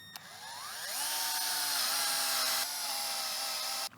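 A power drill drives self-drilling screws into a splice plate on a greenhouse frame, its motor whining up in pitch and then holding a steady, loud spin for several seconds before cutting off.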